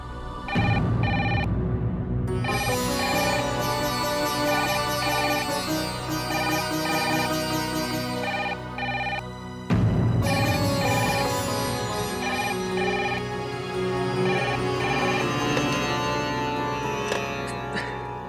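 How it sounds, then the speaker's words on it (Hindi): A telephone rings on and on without being answered, its repeated electronic ring carrying loudly over dense dramatic music with no speech. "जब तक आप फोन नहीं उठाती, मैं आपको फोन करता ही रहूंगा।"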